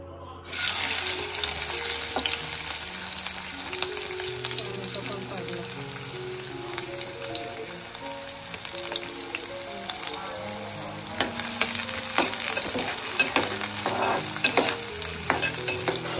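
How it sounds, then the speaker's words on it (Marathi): Onion tossed into two ladles of hot oil sizzles loudly from the start and keeps frying steadily, with stirring clatter and scrapes in the pan throughout. "आता कांदा टाकू आपण त्याच्यात"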